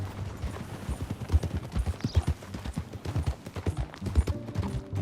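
Horse hooves clip-clop at a steady walking rhythm in Red Dead Redemption 2, moderately loud, with a faint ambient background and no talking.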